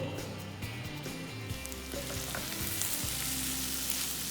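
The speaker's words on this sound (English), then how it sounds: "We will saute the masala nicely." Masala of turmeric, red chilli and coriander powder with salt sautéing in a pan for chicken dopyaza, a steady close sizzle with occasional stirring scrapes, no voices.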